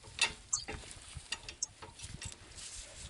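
A hand ratchet works on caliper bracket bolts with a few quick, faint metallic clicks and ticks spread unevenly over a quiet background, close to the listener.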